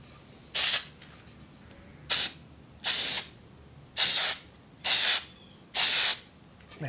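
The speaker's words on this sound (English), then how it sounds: "Now, we're just going to take this spray glue." Spray glue from an aerosol can goes on in six short, sharp hissing bursts, each lasting about half a second, separated by brief pauses, close and loud with no talking.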